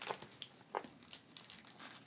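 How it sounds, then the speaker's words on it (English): Paper crinkles in short, separate rustles and crackles while an origami water bomb pumpkin is folded, each crisp crunch quiet and close. "you can take this tab right here and fold it into that pocket"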